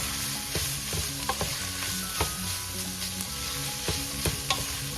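Carrots sautéing for Filipino chicken sopas, a steady close sizzle with repeated stirring scrapes and utensil clinks against the pan throughout.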